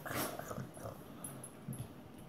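A Great Dane whimpers softly for attention, faint high whines and small yips close by in a quiet room.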